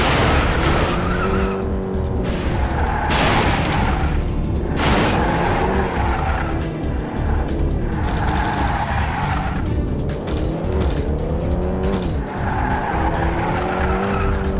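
Car engine roaring continuously with repeated tire squeals and skids while driving in the Pursuit Force video game, a loud, unbroken mix of motor drone and screeching rubber throughout.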